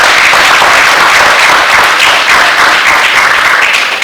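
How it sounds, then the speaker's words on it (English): An audience at an official student venture capital grant launch breaks into a sustained, dense round of applause, loud and continuous for several seconds without talk. "please let's give to the Honorable Minister another round of applause"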